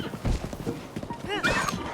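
Horse in Zelda: Breath of the Wild galloping with clip-clop hoofbeats and a sharp whinny near the end, mixed with game sounds under people talking.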